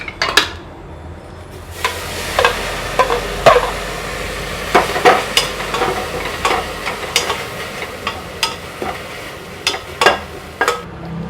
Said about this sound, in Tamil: வெறும் ட்ரை வானலியில் வந்து நம்ம வந்து புதினாவை வதக்கிக்கணும்